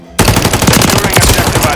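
Rapid automatic gunfire in Call of Duty Modern Warfare 3, a loud sustained burst of rattling shots that starts abruptly after a brief quiet moment and continues without pause.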